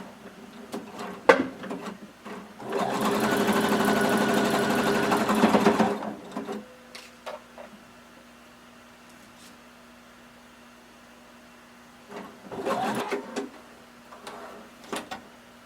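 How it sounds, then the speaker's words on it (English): A sewing machine stitches swimwear fabric about a quarter inch from the edge, in one strong burst of a few seconds and a shorter, quieter run later, with clicks and a faint hum between. "I'm sewing about a 1/4 inch away from the edge of my fabric."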